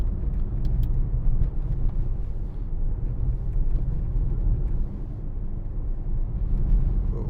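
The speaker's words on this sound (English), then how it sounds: "We'll leave that exhaust sound on." A 2018 Mercedes-AMG GLC63 S with a V8 BiTurbo engine drives along, its exhaust a loud, steady low rumble that stays even throughout.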